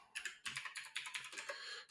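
Rapid clicky typing on a new computer keyboard, a close, quiet run of uneven keystrokes with a few heavier taps and no talk.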